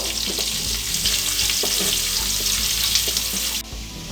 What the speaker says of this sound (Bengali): এবার এতে দিয়ে দিচ্ছি 1 টেবিল চামচের মতন রসুন কুচি। হালকা ভেজে নেব